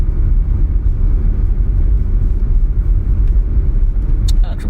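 Mazda CX-30 2.5 Turbo, a 2021 model, driving and accelerating: a steady, loud low engine and road rumble fills the cabin throughout, with a brief higher click near the end.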